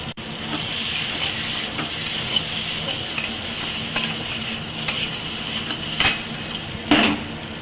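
Dal sautés in a pan with potato, pumpkin, green chillies, salt and turmeric for bhuna khichuri. A continuous moderate sizzle runs under occasional stirring scrapes, a louder scrape comes near the end, and no voice is heard.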